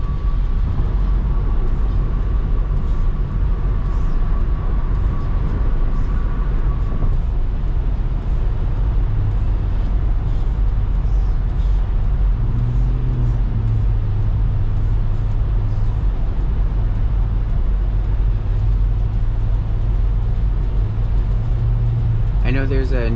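A car drives through peak-hour road traffic, with a steady engine and road rumble filling the whole stretch, a faint hum at times and a brief tonal whine near the end.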